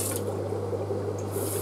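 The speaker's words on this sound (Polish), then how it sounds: "Nalewam zimną wodę," Cold water runs steadily into a container holding brine shrimp hatching ingredients, a continuous close pouring and splashing sound over a low steady hum.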